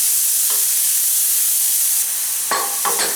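Beetroot frying in ghee for a Kongu-style beetroot payasam gives a steady broadband sizzle with no speech, stirred with brief louder scrapes near the start and toward the end.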